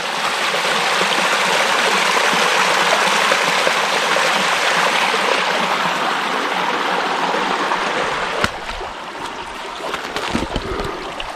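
Creek water flowing beside an old ferry wagon road at a historic townsite, a steady broad rushing wash that holds loud throughout and thins slightly near the end.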